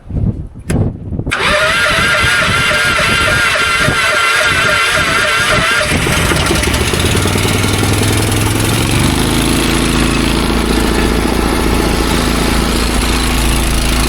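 Small engine cranking with the choke on, a few sharp pulls and sputters before catching and running loudly, settling into a steady rough idle that shifts pitch as it warms.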